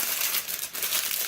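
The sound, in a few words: crumpling parchment paper for baking sourdough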